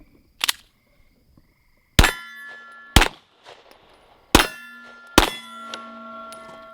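A rifle shot cracks sharply, followed by several more impacts, each leaving a ringing metallic tone from a steel target that hangs briefly before fading.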